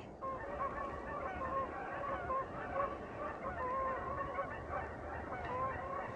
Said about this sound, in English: Two geese just flew through.